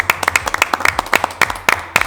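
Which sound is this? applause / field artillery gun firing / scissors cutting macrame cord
applause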